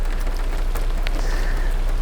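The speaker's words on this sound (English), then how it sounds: "I hate the rain." Steady rain falling on a street, a dense continuous patter of drops with a few sharper splashes, loud and close with no voices.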